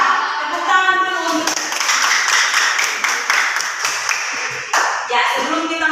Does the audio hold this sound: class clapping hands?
yes